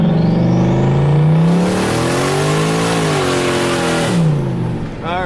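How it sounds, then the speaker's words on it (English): A turbocharged Chevrolet Silverado pickup launches hard in first gear from a roll, its engine roaring loud and close as the pitch climbs, with a broad hiss of tires breaking loose and spinning before the throttle eases off. "Alright, it just blew the tires right off."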